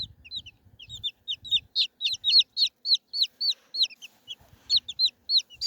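Silver Wyandotte chickens cluck in a close, busy series of short rising calls, nearly continuous with brief pauses, with no talking.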